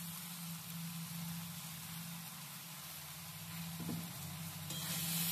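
Salt being stirred into a jujube (kul) pickle in a pan, a steady soft sizzle with low scraping of the mixture, quiet and continuous with a brief louder stir near the end.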